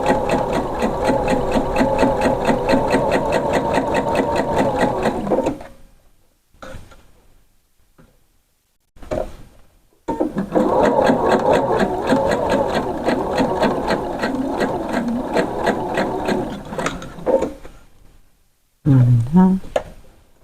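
Sewing machine stitching a blouse, running in a fast steady mechanical rattle, pausing briefly while the presser foot is lifted and the fabric pivoted, then resuming in long bursts with a short stop near the end.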